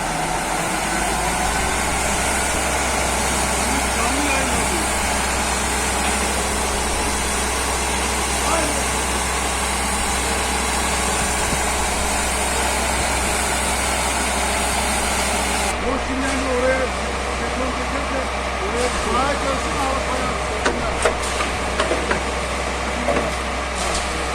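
A truck engine idles continuously at a construction site where ready-made concrete walls are poured, a low, even rumble that holds steady with faint clanks over it.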